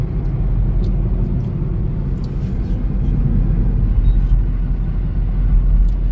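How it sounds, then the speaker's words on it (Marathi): A truck on a bridge produces a heavy, steady low rumble of traffic, close and continuous, with a voice talking over it. "Look at that truck."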